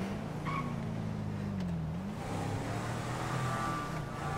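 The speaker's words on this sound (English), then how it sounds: "Driving past the impound yard." A car drives steadily in Grand Theft Auto V past an impound yard, a continuous engine drone with gentle pitch rises and falls.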